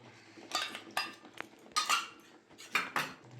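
A spoon scrapes and clinks against a pan while stirring a palong paneer mixture of spinach and paneer, in about five close, separate strokes with quiet gaps between them.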